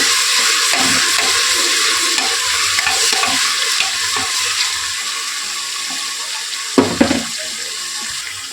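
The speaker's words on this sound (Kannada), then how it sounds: "ಶುಂಠಿ ಬೆಳ್ಳುಳ್ಳಿ ಪೇಸ್ಟ್ ಹಾಕಿ ಚೆನ್ನಾಗಿ ಫ್ರೈ ಮಾಡ್ಕೊತಾ ಇದ್ದೀನಿ" Ginger garlic paste frying in a pan for a vegetable pulao, with steady sizzling and repeated stirring scrapes throughout and a couple of sharper clatters near the end; no one speaks.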